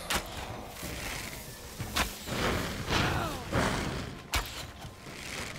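Heavy explosions boom in the video game Enshrouded, set in a spider cave: a few sharp blasts stand out among rumbling, whooshing thuds, fairly loud and close.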